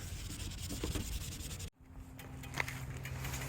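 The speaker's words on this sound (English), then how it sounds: "We've scratched with number 2 sandpaper." Sandpaper rubbing over a yellowed plastic car headlight lens during restoration, a steady close scratchy abrasion that stops briefly partway through, then resumes with a faint hum beneath.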